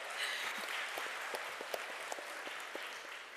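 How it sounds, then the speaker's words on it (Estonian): An audience at a youth panel discussion applauds with faint, distant, even clapping that holds steady throughout. "Aplaus, Ilona Evelin Rannala."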